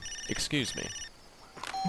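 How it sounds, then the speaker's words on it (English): A phone rings in the Far Cry 2 video game with short electronic trilling bursts, heard around a brief spoken line. "Looks like I got a phone call."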